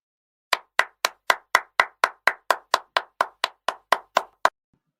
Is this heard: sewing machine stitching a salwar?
no